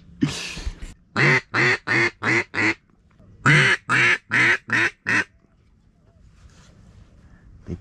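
Ducks quacking during a duck hunt on Louisiana public land, two loud, close bursts of about five rhythmic quacks each, likely a call, after a brief spoken word, then quiet outdoor ambience with faint distant sounds.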